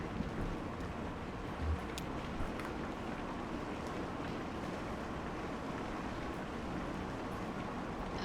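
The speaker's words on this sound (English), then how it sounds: "at least we get to listen to some nice rain in the background" Steady rain ambience from a video game, a continuous broadband hiss that stays even and moderately loud throughout with no talking.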